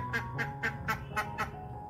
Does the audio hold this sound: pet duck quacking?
yes